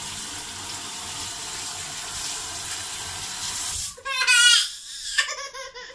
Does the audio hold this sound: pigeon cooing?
no